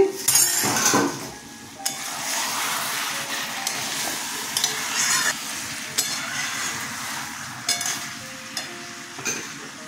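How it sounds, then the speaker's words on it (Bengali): A cooking pot lid lifts off with a few sharp metallic clinks and scrapes against a soft steady background hiss, while a vegetarian potato, pointed gourd, pumpkin, chickpea and coconut chhakka cooks inside. "ঢাকনাটা খুলছি"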